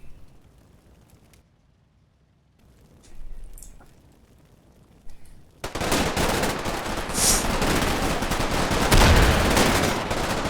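Sustained machine gun fire in the WWII Stalingrad game Combat Mission Red Thunder: after a few seconds of quiet with isolated sounds, loud, dense gunfire erupts and continues without pause to the end.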